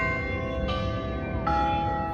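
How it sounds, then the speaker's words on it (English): Church bells ring with long overlapping tones, one strike decaying before another bell enters partway through, steady and fairly loud with no talk. "Always bells when I do videos."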